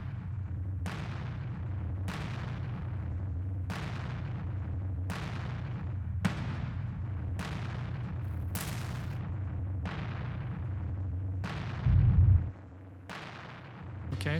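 Three heavily saturated, distorted impact hits built as sound effects for modern metal, repeating as a steady series of sharp booming strikes with long dark tails, loud and alone throughout.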